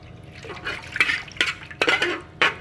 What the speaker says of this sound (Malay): mula-mula kita tuang je santan sikit kemudian kita tambah sedikit air